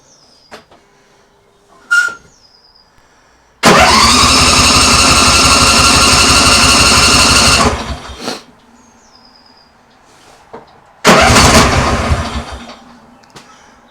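A Husqvarna engine is cranked at half throttle, catching briefly with a loud, sputtering rattle for about four seconds before dying, then a second short burst after a pause, with scattered clunks in between.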